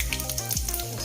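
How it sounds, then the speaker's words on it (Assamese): Panch phoron spices sizzle and crackle in hot oil in a wok, a steady close frying hiss under tonal background music. "কেৰাহীত তেল গৰম হৈছে, এতিয়া মই পাঁচফোৰণ দি দিম।"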